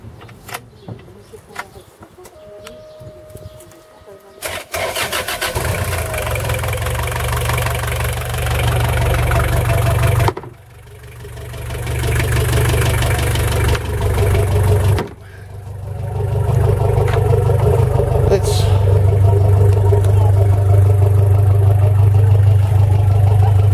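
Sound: Nanni Diesel 50 horsepower boat engine starting up and idling

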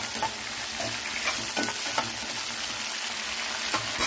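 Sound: onion pieces frying with mustard seeds, being stirred

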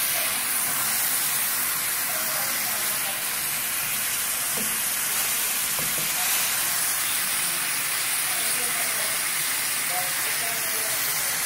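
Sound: steak sizzling while frying

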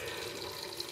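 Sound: water tap running on low

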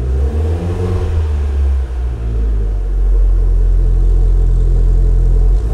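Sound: Fiat 500 Abarth engine with aftermarket exhaust

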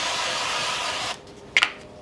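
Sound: nonstick cooking spray sprayed into a baking pan

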